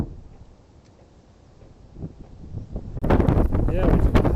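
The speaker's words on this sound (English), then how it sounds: "Cold and windy today." Cold morning wind gusting across the top of Victoria Peak in Hong Kong, rumbling into the microphone and growing much louder and rougher in the last second or so, with a voice talking underneath.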